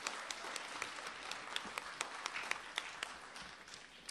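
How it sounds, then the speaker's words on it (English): Light applause from a modest audience at a spelling bee for a contestant, quiet scattered claps with a few sharper individual hand claps standing out over a soft steady patter. "Give Contestant 10 a round of applause"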